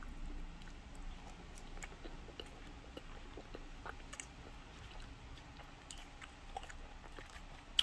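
Chewing a croffle, a croissant waffle, soft close mouth sounds with faint crunchy bites and wet squishes at an irregular pace, quiet and steady with no talking.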